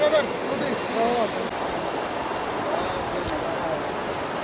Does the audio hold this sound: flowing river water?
yes